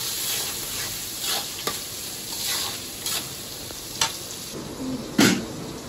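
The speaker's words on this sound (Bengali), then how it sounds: "আজকে আমি পেঁয়াজটা বেশি ভাজা করবো না" Onions frying lightly in a pan for a home-cooked curry, stirred now and then; a steady soft sizzle with several sharper scraping clatters spread across the clip, nobody talking.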